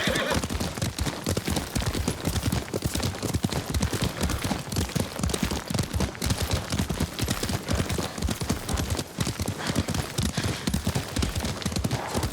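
A horse in the Ghost of Tsushima video game whinnies while its hooves clop in a fast, continuous gallop rhythm, close and loud throughout, with faint background game noise.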